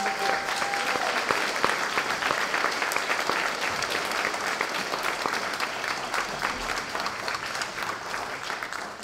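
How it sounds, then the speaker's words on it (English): A seated audience at a panel event breaks into sustained, dense applause, many hands clapping close and loud for the full stretch without pause. "let's give them a round of applause while these beautiful people are doing the gifts."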